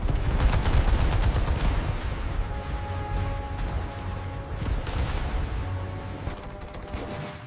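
A 5-inch naval deck gun fires alongside explosions in a sea battle against speedboats, producing a dense, rumbling barrage of repeated blasts and booms that fades slightly toward the end.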